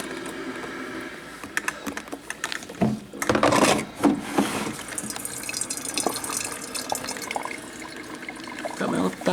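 A Black & Decker thermal carafe coffee maker brews in an apartment, giving soft gurgling and sputtering water sounds with scattered small clicks and drips, fairly quiet and uneven, with a louder burst of bubbling midway.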